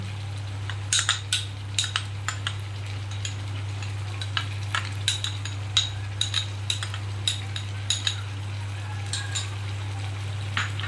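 A spoon stirs a ground paste of cashews, raisins and poppy seeds into chicken cooking in a pan. Steady low kitchen hum runs under scattered scraping clicks and a faint sizzle, close and moderately quiet.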